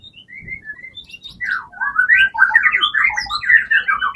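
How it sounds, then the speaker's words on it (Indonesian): An oriental magpie-robin (murai batu) in a breeding cage pours out a loud, close, continuous run of varied whistles and rapid chirping phrases, building from sparse notes into dense song, with faint background noise. "Nah ini murai ya bosku"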